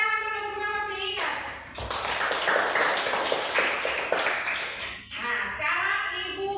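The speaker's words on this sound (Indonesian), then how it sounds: "Oke, tepuk tangan dulu, semua masih ingat." A class of schoolchildren clapping hands together in a classroom, a busy burst of claps lasting about three seconds in the middle, with children's voices speaking or chanting before and after.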